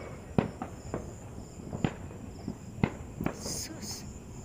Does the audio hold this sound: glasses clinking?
no